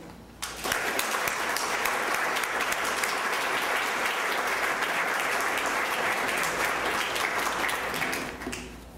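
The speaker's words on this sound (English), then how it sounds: "I'd like to give a great round of applause for our speakers and for Dr. Gehring, who is going to begin." Audience applause for speakers at a museum lecture, a full, dense wash of clapping that starts abruptly, holds steady and loud for several seconds, then begins to fade.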